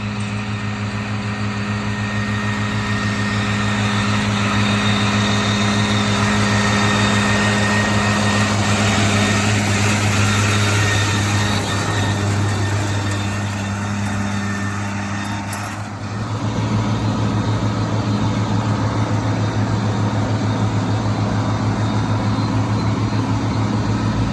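A tractor-pulled haybine mower cuts hay as it passes close by, a loud steady engine drone with humming machinery that dips briefly midway and then resumes.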